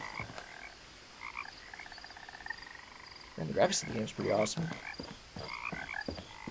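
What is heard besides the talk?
frogs croaking in the video game What Remains of Edith Finch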